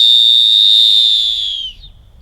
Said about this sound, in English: Next item is going to be a whistle for signaling